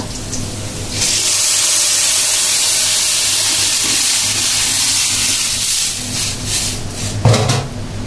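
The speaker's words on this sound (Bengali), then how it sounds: "যেটা এখন আমি ঢেলে দেব ডালটা" Lentils for a sour mango dal are poured into hot browned onion and garlic and burst into a loud, steady sizzle close up that lasts throughout, with a brief clatter near the end.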